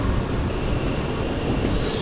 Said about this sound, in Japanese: 初めて東北新幹線乗る